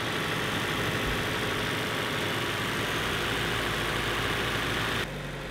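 A car engine idles high, at about 1400 to 1500 rpm, after a coolant temperature sensor was changed. A steady, loud mechanical drone holds constant for about five seconds, then cuts to a quieter background.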